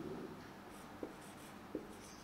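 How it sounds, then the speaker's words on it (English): Marker or chalk writing on a classroom board during a beginner spoken English lesson, a faint continuous rubbing with two brief taps, quiet and alone with no talk. "I'll just write it on the board."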